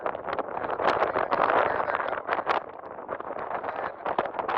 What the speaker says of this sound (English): it's more than a little windy